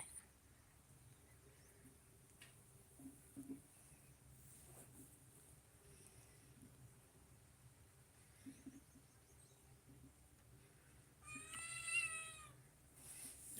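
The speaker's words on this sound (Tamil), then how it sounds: "ஒரு பூனை உட்காந்துட்ருக்குங்களா? இங்கே ஒரு பூனை." A cat meowing at a tea stall, one clear drawn-out meow near the end rising above a quiet, faintly buzzing background with scattered small knocks and clicks.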